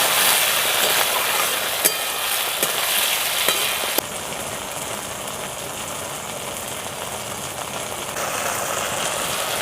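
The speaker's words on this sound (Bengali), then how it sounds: "পেঁয়াজের সঙ্গে টমেটোটাকে একটু ভালো করে ভেজে নিচ্ছি।" Chopped onion and tomato fry in a pan, giving a steady broadband sizzle throughout, with a few faint clicks in the first half and no talking.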